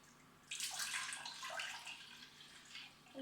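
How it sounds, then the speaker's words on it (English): Milk poured into a very hot pan while making homemade fruit custard, a broad hissing, splashing rush that starts abruptly and continues steadily, close and fairly quiet, with no talking. "I'll give you a second to get the milk, and now I'm going to pour it."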